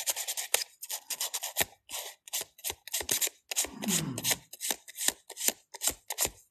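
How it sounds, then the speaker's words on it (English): An emery board rubs across painted paper in quick, dry, scratchy strokes close up, in short bursts with brief gaps between them. "I'm going to just try rubbing this with an emery board."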